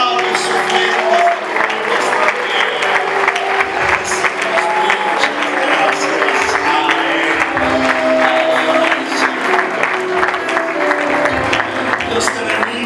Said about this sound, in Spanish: Le damos palmas al Rey de gratitud